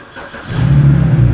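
A BMW car engine turns over and catches, its low hum rising within about a second and then settling into a steady, close idle, with no voices over it.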